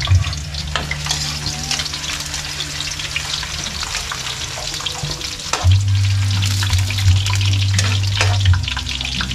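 Garlic frying in a pan, a steady sizzle with stirring scrapes and a low hum, growing louder partway through.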